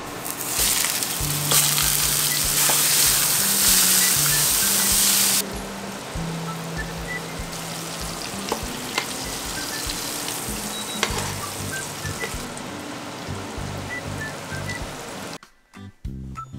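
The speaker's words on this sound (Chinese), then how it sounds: "今天准备煎个牛排和女朋友一起吃" Steak fries in a pan with a loud, steady, close sizzle that eases after a few seconds and continues more quietly under background music.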